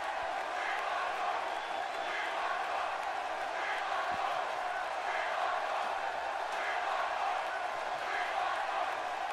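Arena crowd in the wrestling game WWE 2K17 for a SmackDown show, a steady roar of cheering and whooping that swells in regular waves, fairly distant and continuous throughout.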